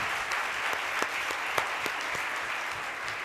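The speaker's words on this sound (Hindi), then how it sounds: "उससे पहले मैं चाहता हूं कि आप वरिष्ठ नागरिक प्रकोष्ठ के लिए एक बार जोरदार तालियां बजाएं।" An audience at a debate competition for a Mahesh Navami program claps steadily, a dense wash of applause with a few sharper individual claps standing out, sustained throughout.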